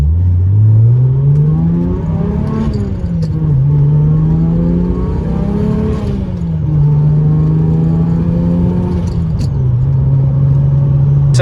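A BMW 335i fitted with an On3 single turbo revs loudly and close by, its engine note rising and falling in repeated sweeps over a steady, droning idle.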